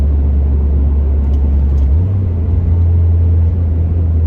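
A car engine hums steadily as it drives through foggy wine country, a low continuous rumble with a slight shift in pitch midway, close and loud with no talking.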